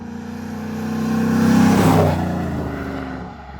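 A re-engineered 1977 Ford F-150 pickup drives by close and loud, its engine note swelling to a peak as it passes, then easing back down, with no voices.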